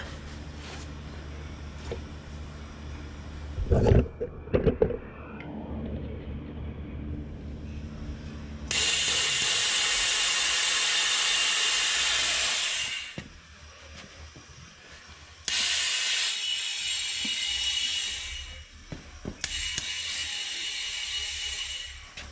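Compressed air hisses loudly into a 2018 Chevy Malibu tire through the open valve stem while seating the bead, in steady broadband bursts lasting several seconds, broken by metallic clanks and ratcheting from the tire-changing work.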